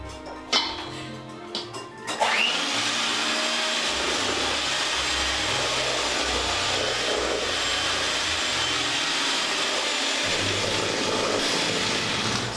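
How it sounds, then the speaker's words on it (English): An electric mixer blends Christmas sugar cookie dough with flour being added, starting after a few clinks and then running as a steady, loud whirring drone that holds throughout with slight wavering. "I'm going to start blending again"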